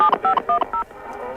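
Telephone keypad tones beep in a quick sequence of four short dual-tone presses, clear and close, followed by a faint hum.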